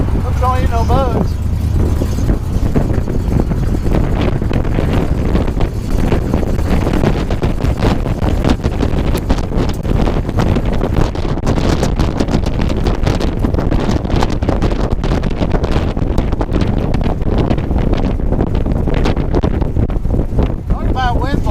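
Strong, steady wind roar buffets a 1968 Impala driving with no windshield, a dense broadband rush filling the whole stretch with the car's low rumble beneath, while people talk over it.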